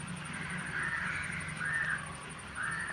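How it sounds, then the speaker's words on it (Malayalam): Crow cawing outdoors in a few loud, harsh calls, each drawn out and spaced by short gaps, over a steady background hum with no talking. "കാക്ക നിൽക്കുന്നത് കേട്ടോ."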